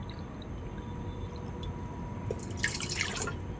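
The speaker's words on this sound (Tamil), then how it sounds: "அதே கப்பில் இப்போ நான் 6 கப்பு தண்ணி ஊற்றிக்க போகிறேன்" Water is poured from a rice cooker measuring cup into a rice cooker pot holding rice for chicken biryani; a few soft drips give way to a short burst of splashing near the end.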